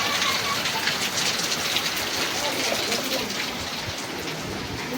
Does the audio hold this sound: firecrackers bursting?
no